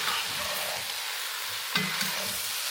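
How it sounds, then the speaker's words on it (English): A spoon stirs mushrooms into creamy potatoes and chicken in a one-pot dish, a steady close wet scraping and mixing over a continuous soft sizzle, with a brief sharper clatter partway through. "we are adding mushrooms back in. Give it a good mix."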